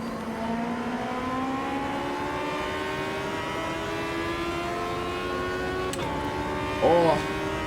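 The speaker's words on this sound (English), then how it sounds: "Doesn't this use like the Hayabusa engine?" Race car with a Hayabusa engine in Automobilista 2, a high engine note climbing steadily through a long pull, with a brief sharp knock and a short burst of revving near the end.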